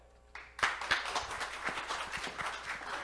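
An audience at a workplace safety week event starts clapping after a short quiet lead-in, then keeps up a brisk, uneven round of hand claps close by.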